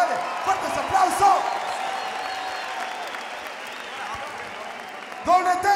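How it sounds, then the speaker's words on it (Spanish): A crowd at a Chile versus Peru freestyle rap battle semifinal applauds the competitors with sustained clapping and some cheers, dipping in the middle before a burst of louder sound at the end. "Un fuerte aplauso para los competidores."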